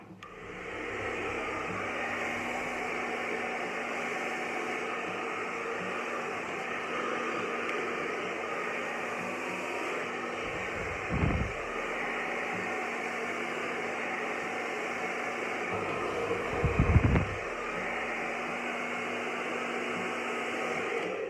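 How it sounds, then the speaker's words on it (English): A steady hair dryer blows continuously with a broad airy whoosh during a blow-dry, close by, with a couple of brief low thumps partway through. "or you can always balance your dryer underneath to catch it"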